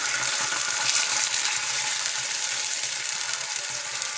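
Garlic frying in a hot pan gives a loud, steady, close sizzle and crackle throughout, with no voices.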